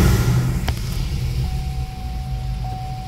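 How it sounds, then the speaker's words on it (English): A car engine runs at idle, a steady low rumble close by, with a faint thin electronic tone coming in partway through; no one speaks. "let's turn the car on"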